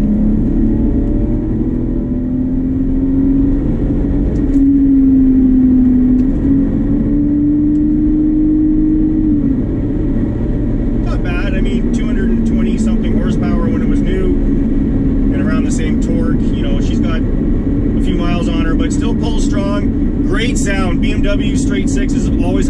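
A BMW E46 straight-six pulls hard at full throttle, holding a steady engine drone near 5,000 rpm with rising pitch, while someone talks over it throughout inside the car.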